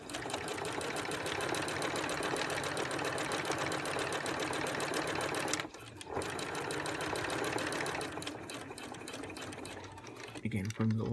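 Sewing machine stitching a lap zipper into the center back of an A-line skirt, a fast continuous mechanical whir with a short pause midway, then steady stitching again.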